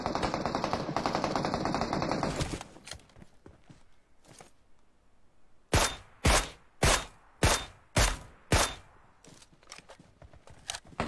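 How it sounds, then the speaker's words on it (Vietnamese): Gunfire in a PUBG-style battle royale shooter, heard as a string of six sharp, evenly spaced shots after a stretch of muffled movement noise, close and loud. "dưới chân mình bắn á"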